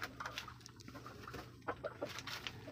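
A backyard laying hen that has stopped producing eggs clucks in short, close, irregular bursts, a few soft throaty clucks against faint farmyard background with no speech.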